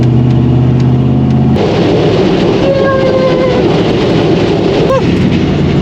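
A 1972 Chevrolet K5 Blazer with brake problems drives down the road, its engine droning steadily and loudly from start to finish, with a brief whine and some rattling partway through.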